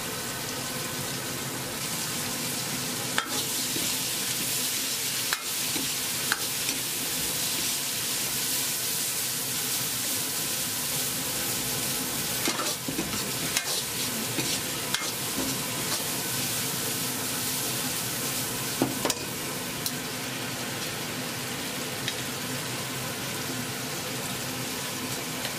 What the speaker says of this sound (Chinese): 下蒜苔、青椒粒，